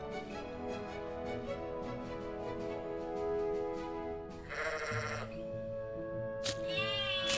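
Small sheep bleating in the cozy shop simulation game Teddy's Haven, a few quavering bleats standing out over a soft, steady game music bed, fairly faint and with no talk.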